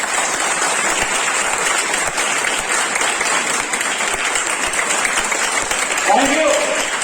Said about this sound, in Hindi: तो हो जाए शानदार तालियां अपने सेहत के नाम।